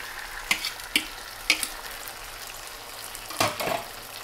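Potatoes finishing in a tomato sauce in a pan for sausage and peppers, a quiet sizzle under a few sharp clinks of a utensil stirring and scraping the pan, close by with no talking.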